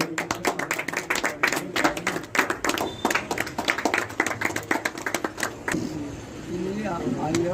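Dense, rapid clapping from an audience at a patriotic memorial gathering honouring fallen soldiers, loud and sustained for about six seconds before fading into a raised voice near the end.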